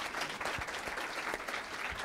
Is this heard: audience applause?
yes